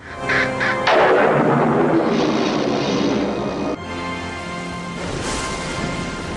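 Thunder crashes on a dark, stormy night, a loud rolling boom that sustains, then a second sharp crack followed by lingering rumble and rain-like hiss.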